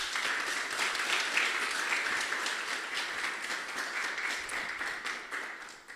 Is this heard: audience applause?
yes